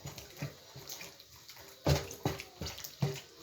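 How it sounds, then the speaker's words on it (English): Meat is washed by hand in very hot water, with soft sloshing and splashing in a rhythmic pattern as the pieces are turned, faint and close. "I'm washing it in hot water."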